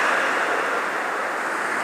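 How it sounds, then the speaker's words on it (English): Ocean waves on the Kauai shore where people are fishing, a steady broad wash of surf with wind noise, fairly loud and continuous, no voices. "So you always watch the waves."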